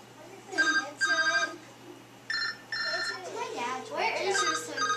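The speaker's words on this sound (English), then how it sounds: "My cell phone's going to start ringing." A cell phone rings with repeated bursts of an electronic ringtone, fairly close and clear, with a voice talking between and over the rings.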